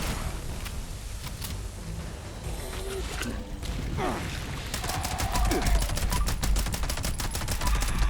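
Rapid gunfire from the Fixer rifle in Fallout 76 arrives first as scattered shots, then as a fast, steady burst of evenly spaced reports, with battle noise and a voice talking underneath.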